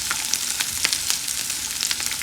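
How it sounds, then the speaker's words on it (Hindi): Dry fruits frying in a pan for sheer khurma, a sweet vermicelli pudding, make a busy crackling sizzle with rapid pops and spits throughout, close and steady, without speech. "ये हम फ्राई कर रहे हैं"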